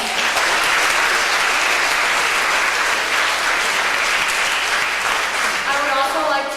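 An audience at a Model United Nations closing ceremony in Thailand applauds, steady dense clapping filling the hall at full strength throughout, with no voices above it.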